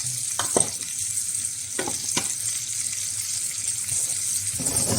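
Cherry tomatoes sauté in a pan with a steady, close sizzle and crackle throughout, broken by a few sharp clicks of utensils and no talk.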